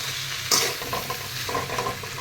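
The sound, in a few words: stirring fish and brinjal curry frying in pan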